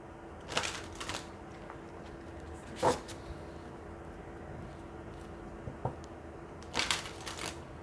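Cards from a herbal oracle deck are handled and drawn, making a few soft, brief rustling and flicking bursts spaced apart against a faint, quiet room.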